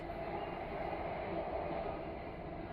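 Quiet, steady rumble and hiss inside a moving train in Delhi, an even low drone with no voices.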